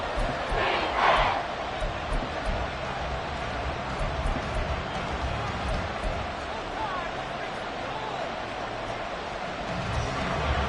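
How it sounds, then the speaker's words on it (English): A large stadium crowd at a football game roars steadily through a big third-down moment, a dense, continuous wall of cheering and babble with a brief louder swell near the start. "the crowd getting into it as we come up on a big 3rd down"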